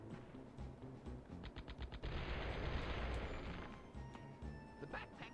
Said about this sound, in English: Gex also shoots a machine gun, sometimes at people.